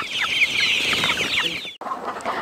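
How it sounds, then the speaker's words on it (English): Laying hens kept in cages in a layers house cluck in a dense, continuous chorus that stays steady and close, then briefly cuts out near the end before resuming. "This is my layers house. Whereby I usually keep caged layers."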